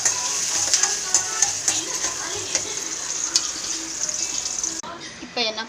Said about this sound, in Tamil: நல்லா வதக்கி விடணும். பொன்னிறமாக வதக்கணும்.